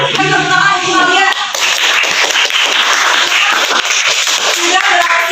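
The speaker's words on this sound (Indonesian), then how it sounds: "Tepuk tangan ibu kalian." Students in an Indonesian classroom clap their hands together, a loud, dense burst of many overlapping claps filling the room, with a voice speaking over the first second.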